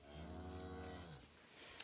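A calf gives a long, drawn-out moo that fades after about a second, followed by quiet background.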